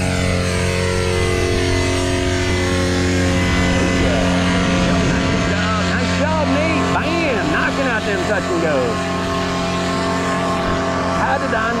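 A paramotor engine runs at full throttle on a student's flight, a loud, sustained droning buzz whose pitch rises and wavers as the power changes, with an instructor talking over it.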